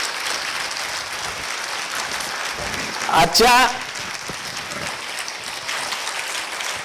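Audience applause at a felicitation event honouring a personality, a brief burst of clapping rising over a steady crowd murmur, with someone speaking just before it.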